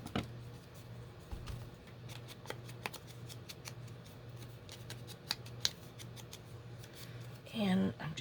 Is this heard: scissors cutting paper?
yes